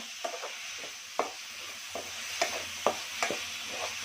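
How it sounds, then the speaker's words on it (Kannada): A spoon works through a thick mixture of mashed mango and jaggery in a pan, giving soft, wet scraping strokes with a few sharper clicks at irregular intervals against a faint sizzling hiss. No one speaks. "ಬೆಲ್ಲ ಮಾವಿನಹಣ್ಣೆಲ್ಲ ಫುಲ್ಲು ಮಿಕ್ಸ್ ಆಗಬೇಕು"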